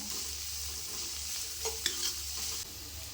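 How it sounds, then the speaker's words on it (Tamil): Onions sauté with salt and turmeric in a pan, a quiet steady sizzle with a couple of soft scrapes of a spoon stirring; no voices. "இப்போ இந்த வெங்காயம் வதங்கிறதுக்கு கொஞ்சமாக உப்பு சேர்த்துக்கலாம்."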